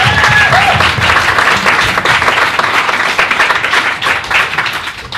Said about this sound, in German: kurzen Applaus für den Klimaschutzmanager.